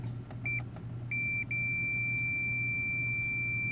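A multimeter set to ohms gives short, steady high-pitched continuity beeps, a few brief bursts then one sustained tone, while an air conditioner's breaker-tripping fault is traced; a low hum runs underneath.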